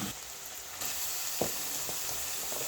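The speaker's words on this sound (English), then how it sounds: "Then let it simmer for a while." Smocha sauce simmering and sizzling in a pan, a steady bubbling hiss with a few brief stirring clicks, close and moderately quiet with no talking.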